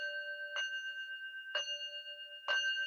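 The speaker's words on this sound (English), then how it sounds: "I start off with a bell, a little singing bowl. So I start off with 4 bell hits" A small meditation singing bowl is struck three times at an even, unhurried pace. Each soft strike blooms into a sustained, shimmering ring that carries over into the next, faint and alone in a quiet room.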